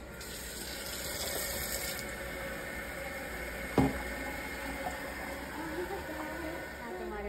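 Hot water runs steadily from a tap into a container, a continuous even hiss lasting the whole stretch, with a faint knock partway through.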